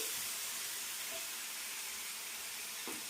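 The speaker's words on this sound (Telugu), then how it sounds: "ఇలా మంచిగా నూనెలో వేపుకోండి" Spinach frying in oil for a spinach and grated raw mango chutney gives a steady, even hiss and sizzle throughout, with a faint clink near the end.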